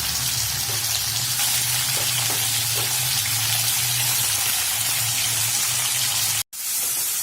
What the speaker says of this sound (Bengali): প্রথমে এখানে আমি একটা কড়াইতে তেল গরম করতে দিয়েছি। তেলটা গরম হয়ে গেছে আমার। তো এর মধ্যে আমি চিকেনটাকে দিয়ে দেব।